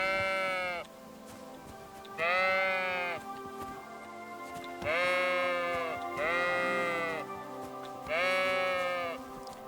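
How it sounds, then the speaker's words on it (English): Sheep bleating in the medieval game Kingdom Come: Deliverance II, five loud, drawn-out wavering bleats in a slow irregular series close by, over faint rustling ambience. "this sheep is going to go way over there"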